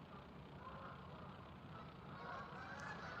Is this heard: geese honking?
yes